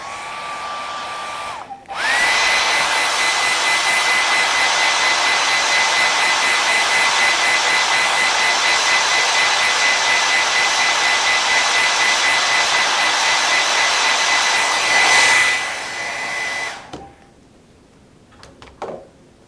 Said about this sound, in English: I'm gonna rinse my brush and blow dry really just the head of our swan